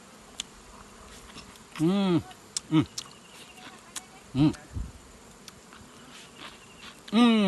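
Honeybees at a Flow Hive honey bee farm buzz around, with individual bees zipping past the listener in short swooping passes over a low hum and outdoor background.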